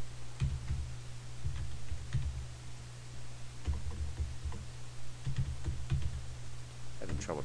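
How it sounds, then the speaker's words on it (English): Typing on a computer keyboard while working through a checking worksheet, scattered bursts of soft key clicks with pauses between, close and quiet over a low steady hum. "having trouble typing today, I guess."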